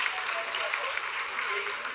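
Applause from a crowd gathered to watch a lunar landing's vertical descent phase, a dense continuous clapping texture at moderate distance with faint voices mixed in beneath it.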